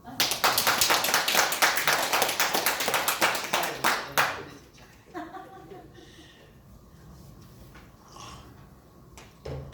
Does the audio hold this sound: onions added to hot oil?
no